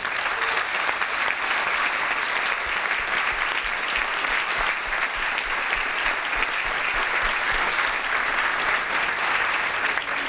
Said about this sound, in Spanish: Démosles por favor un fuerte aplauso.